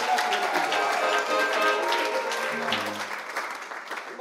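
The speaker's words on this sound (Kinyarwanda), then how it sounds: "Reka dukomere Yesu amashyi menshi." A church congregation claps for Jesus, a dense crackle of applause that stays strong and then thins slightly toward the end, with voices and some tones mixed in.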